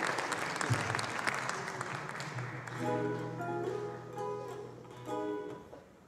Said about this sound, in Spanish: Vamos a invitarlo con un fuerte aplauso.